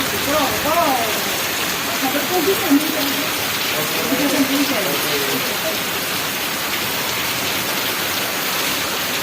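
Steady heavy rain pours down at midnight in Kutch, Gujarat, in a dense hiss, with a voice talking briefly near the start.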